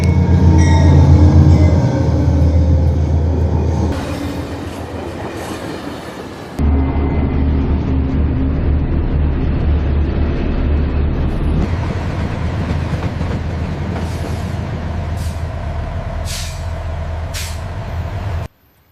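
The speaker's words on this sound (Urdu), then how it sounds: "تو یہ ہماری ٹرین جو ہے وہ مکہ سے چلی" A played sound effect of a train running on rails: a loud, steady rumble of wheels and carriages with brief squeals and hiss. It fades slightly, then picks up again and continues alone with no talking.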